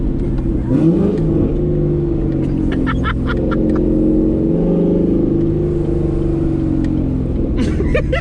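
A loud C7 Corvette Grand Sport engine revs and rumbles steadily in manual mode, with a few sharp higher-pitched bursts riding over the low drone.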